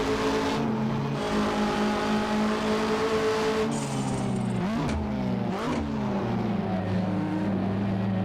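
Period touring race cars in Assetto Corsa, including a Ford Sierra, BMW 635 and Walkinshaw Commodore, roar and rev loudly on track, engines rising and falling through gear changes with no talk.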